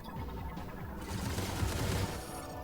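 Rapid sustained gunfire in a superhero combat video game, a dense continuous roar of shots with heavy low rumble, loud and unbroken throughout, with no speech.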